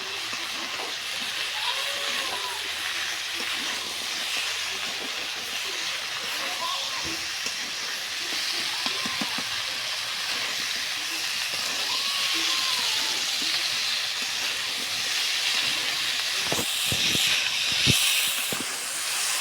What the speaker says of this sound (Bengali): আগে মশলার সাথে আমরা ভালোভাবে কষে নেব আস্তে আস্তে দেখুন।